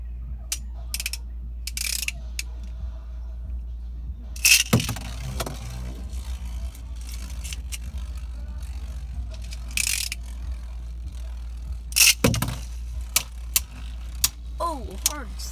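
Two Turbo Achilles Beyblade tops battle in a stock combo tournament, with a few loud ratcheting launch bursts and clashes over a steady whirring spin, plus sporadic clicks and rattles.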